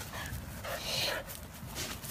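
A blind and deaf dog pants in quick rhythmic breaths with a few soft whimpering sounds, close by but quiet.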